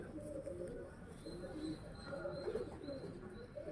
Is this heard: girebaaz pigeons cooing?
yes